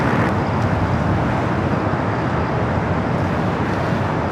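A loud, steady, broadband jet roar dominates at Los Angeles LAX airport by runway 25 Right, where an A330 airliner is awaited for its takeoff roll. The roar is heavy in the low end and continuous, with no voices.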